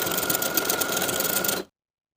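A sewing machine zigzag stitches over the overlapped ends of elastic on linen shorts, a continuous close mechanical whirr with a rapid ticking pulse that stops abruptly after about a second and a half, followed by silence.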